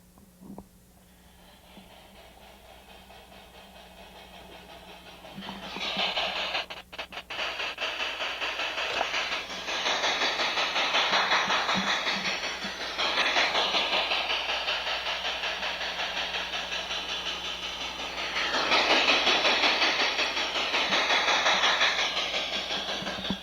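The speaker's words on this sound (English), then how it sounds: "Let me demonstrate that by just turning the engine on and pushing it backwards." An LGB G-scale model train engine runs along its track in a home layout, a steady near rumble and hiss that swells after a quiet start and holds with light clicking and rail noise.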